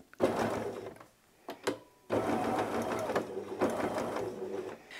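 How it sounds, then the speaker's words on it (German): A sewing machine stitches fabric for a beginner's quilting and appliqué project, running in bursts of steady whirring with a short pause and a few clicks between runs, close and fairly loud with no talking. "nehmen wir das einmal mit an unsere Nähmaschine"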